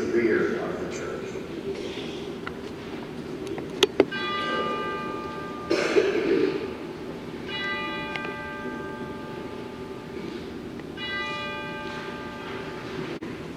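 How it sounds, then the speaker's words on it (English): Church bells in a church service ring three times, each stroke sounding clearly with a long ringing decay, while indistinct speech and room noise continue underneath. "The bells are going to ring 3 times to call to mind our baptism into Christ."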